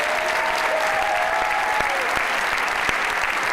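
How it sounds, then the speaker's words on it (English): A large crowd at a gathering with Governor Cuomo and Cardinal Dolan applauds County Executive Ed Mangano, a loud, unbroken roar of clapping with faint voices and a brief tonal whistle-like sound threaded through. "let's give him a big round of applause."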